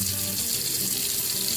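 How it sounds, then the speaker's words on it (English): Tap water runs steadily into a sink as a Barbie doll's curly hair is rinsed under it. The rushing stream is close and continuous, with no voices. "I'm rinsing this Millie girl's hair just like the other one."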